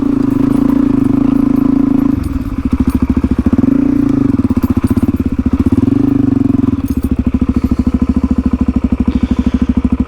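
A Suzuki DRZ400E dirt bike labours up a steep hill, its single-cylinder engine thumping loud and close with a rapid, even pulse that dips and rises as the revs change, with wind buffeting in the background.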